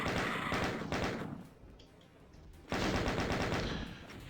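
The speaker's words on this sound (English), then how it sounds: "Fire off a little bit of chain gun ammo" Chain gun in the video game DOOM firing two rapid bursts separated by a short pause, loud and close, with no talk.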